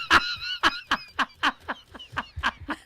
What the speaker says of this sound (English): Bird screaming.